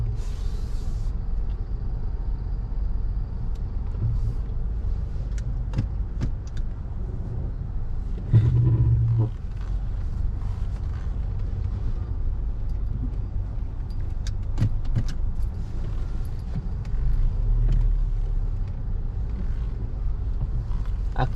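A car idling and creeping along as it is parked, a steady low engine rumble with faint clicks and a brief louder thump midway, no speech.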